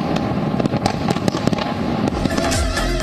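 New Year fireworks over Taipei's tallest building, a dense run of bursts and crackles over steady noise from a large crowd and city, sharp pops repeating irregularly and a heavier rumble building toward the end.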